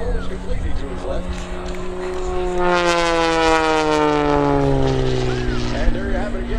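An Extra 300 aerobatic airplane flying a torque roll at the 2013 Lehigh Valley Airshow gives a loud propeller-engine roar. Its pitch swells, then slides steadily downward, with a commentator talking over it.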